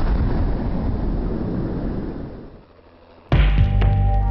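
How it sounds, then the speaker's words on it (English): A seismic explosive charge detonates on Arctic sea ice, giving a heavy, broad rumbling roar that slowly dies away before a different, sharper sound cuts in abruptly near the end. "Sound waves from the explosions were registered by geophones"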